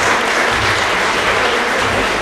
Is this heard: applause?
yes